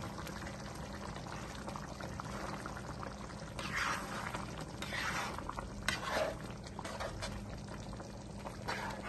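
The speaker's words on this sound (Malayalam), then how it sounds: "ഇവിടെ മീൻ നല്ലപോലെ തിളച്ച് വന്നിട്ടുണ്ട്." Kerala-style fish molee simmers in a pan after milk is added, giving a quiet, continuous bubbling with a few louder gurgles and small splashes.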